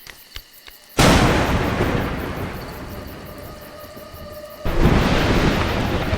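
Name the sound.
thunder and lightning in the video game A Juggler's Tale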